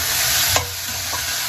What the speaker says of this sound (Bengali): এটা এখন ভাজা হবে, হালকা ভাজা